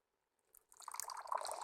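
Hot water poured into a ceramic matcha tea bowl to warm it before whisking tea, a soft liquid splash building after a quiet start and running steadily, close and fairly quiet, with no talking.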